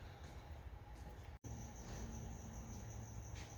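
Crickets chirp in a steady, high-pitched trill, faint and continuous against a quiet background, broken by one very brief dropout.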